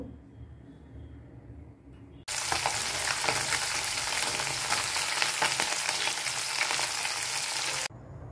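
Small puti fish hit hot oil for a curry with tender bottle gourd, and a loud, dense sizzle bursts in suddenly after a quiet start, holds strongly for several seconds, then cuts off.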